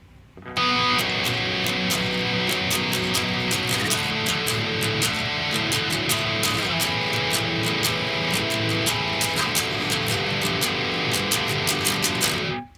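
An 8-string guitar strums heavy power chords in a steady down-up pattern, loud and dense with bright pick attacks, playing alone with no talk.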